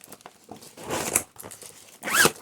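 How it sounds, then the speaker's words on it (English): Zippers on cross stitch project bags are pulled open and shut, giving rasping bursts mixed with fabric crinkling and rustling, close to the microphone, with a longer sharp zip near the end. "sorry about the zippers"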